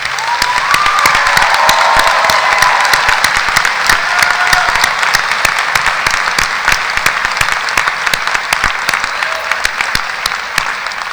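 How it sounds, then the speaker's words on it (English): A graduation audience at an art college ceremony applauds loudly and continuously, dense clapping filling the hall without letup. "join me in giving you all a round of applause"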